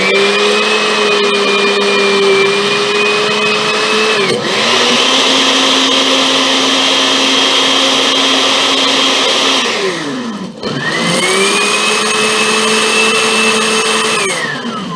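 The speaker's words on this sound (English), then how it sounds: "And then we'll go blend it." A blender whirs loudly and steadily, mixing egg custard pie filling with a cup of sugar; its motor pitch shifts a few times and briefly drops out near the end before roaring back up.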